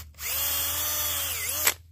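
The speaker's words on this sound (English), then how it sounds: "That's all the shavings from where I drilled it." Power drill boring a tap hole into a maple tree for syrup, a steady close whine lasting over a second that dips briefly under load before stopping abruptly.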